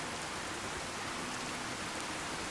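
Soft, steady rain hisses evenly throughout, a quiet wash of falling drops with no breaks or other sounds, from Fallout 4 on Xbox One with the True Storms mod.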